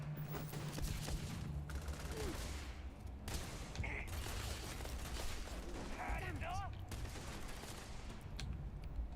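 Distant enemy gunfire in the Starfield game crackles in scattered bursts beneath a steady, noisy game soundscape, faint and continuous with occasional sharper reports and brief tonal chirps.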